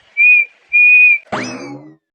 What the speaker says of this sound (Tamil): ரைட்டு, குயில் கூவி இருக்கு.